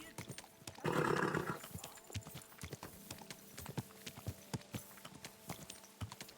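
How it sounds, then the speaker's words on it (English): Horse hooves clip-clop in the Kingdom Come: Deliverance 2 video game, a steady, fairly close rhythm of sharp hoof strikes with a brief louder burst near the start and a faint snort. "easy, good horse."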